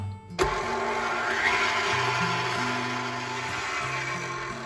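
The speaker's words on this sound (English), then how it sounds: "We're gonna whisk these together first for about a minute or so." Electric stand mixer whisking three room-temperature egg whites, a steady loud whirring hum that starts abruptly and runs evenly throughout, with no talking.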